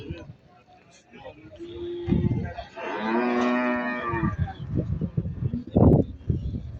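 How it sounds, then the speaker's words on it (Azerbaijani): A cow at a livestock market in Barda gives one long, loud moo from close by, with people talking over the market's background noise before and after it. "bak belə bir inəyi var"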